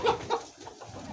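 Chickens clucking inside a chicken house of laying hens, a couple of short nearby clucks over a low, continuous background murmur of the flock.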